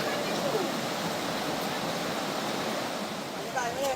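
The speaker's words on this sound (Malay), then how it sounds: "Air sungai di sini deras dan sejuk, sungainya berbatu" A swift, cool river tumbles over rocks near Pos Kuala Mu, producing a constant, full rushing roar that stays steady and close throughout, with nothing else standing out.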